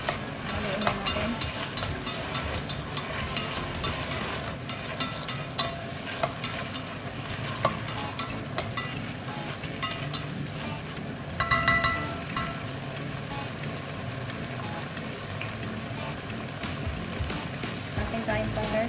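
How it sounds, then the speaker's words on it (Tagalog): Tomato paste stirred in a frying pan, with a steady close sizzle and continuous scraping of a spatula against the pan throughout, and a brief louder burst of frying near the middle. "Haluin na natin."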